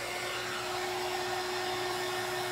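A hair dryer drying paint on a craft item blows a steady, loud whoosh with a constant high whine, unbroken and without any talk.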